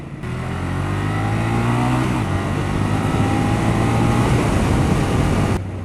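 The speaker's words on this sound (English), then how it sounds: "It just sounds really nice with a stock exhaust." A 2014 Ducati Monster 1200 with its stock exhaust runs up through the revs, its engine note rising and shifting pitch under load, loud and close with no talking.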